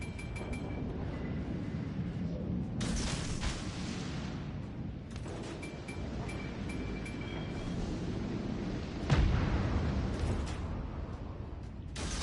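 Warship guns in the naval battle game World of Warships Legends, several heavy booming salvos with dense rumbling echoes, including one sharp loud blast near the end over continuous background battle noise.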